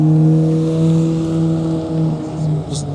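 Porsche 911 sports car engine droning close by with a steady, strong low tone that swells and eases slightly as it moves, a faint high chirp near the end.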